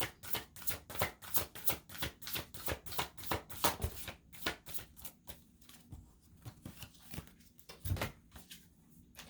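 Tarot cards shuffled and drawn by hand at close range, a quick run of crisp riffling flutters followed by scattered slaps and flicks as cards are laid down, with no talking.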